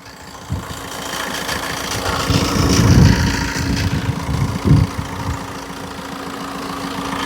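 A used car for sale idles and revs briefly, a rough mid-pitched engine with knocking pulses, swelling to a couple of louder surges and settling again.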